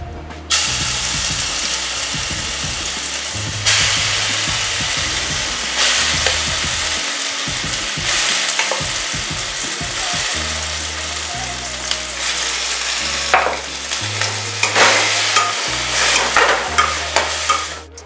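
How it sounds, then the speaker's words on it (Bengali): Spice paste being stirred and fried in a pan for chicken curry: continuous sizzling with repeated scraping strokes of a spoon, close and fairly loud, while low music plays underneath. "একটু নেড়ে নিচ্ছি। এরপর যে মশলা পেস্ট করে রেখেছিলাম সেই মশলা কিছুটা দেবো।"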